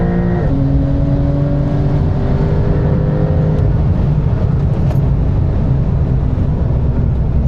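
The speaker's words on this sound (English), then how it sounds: "this car launches great" A Porsche 911 Turbo S engine roars at full throttle launching at a drag strip, pitch climbing briefly and then droning steadily, close and continuous with no speech.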